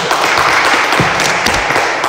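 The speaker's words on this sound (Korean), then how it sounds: "우리 찬양팀 감사합니다. 우리 한번 박수로." A church congregation at a Saturday prayer meeting of a Korean church in Paris applauds the worship team, with steady, dense clapping filling the room throughout.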